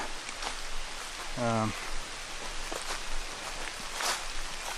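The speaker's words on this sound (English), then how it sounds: "Rain is coming down a little bit harder" Rain falls steadily during a hike at Brookville Lake, a soft continuous hiss with faint footstep-like rustles, while a brief low voiced sound rises over it partway through.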